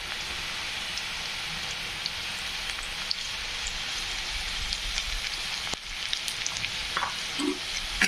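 Onion fries in a pan with turmeric and red chili powder while cooking an usal, giving a steady, close sizzle and crackle that continues without talk.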